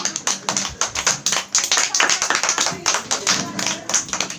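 A small group of people claps at a home function, with quick, slightly uneven hand claps repeating steadily up close.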